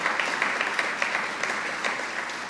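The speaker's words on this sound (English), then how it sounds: "Let's give him a round of applause," Audience at a governor's press event applauding, a short burst of steady crowd clapping heard on its own.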